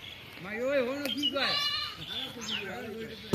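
A goat bleats in a farmyard, several wavering cries close by that overlap one another across the stretch, with a faint chirp in the background.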